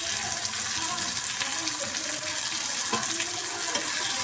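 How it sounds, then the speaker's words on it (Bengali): Chopped tomato goes into onions already frying in a pan, and a steady hiss and sizzle of hot oil runs throughout, close and even, with faint clinks. "এরপর আমি এখানে দিয়ে দিলাম একটা টমেটো কুচি।"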